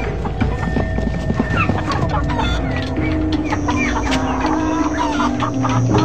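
Chickens clucking inside an odd coop set in the corner of a warehouse in an animated spy cartoon, steady busy fowl calls against a dense layer of music and effects that runs throughout.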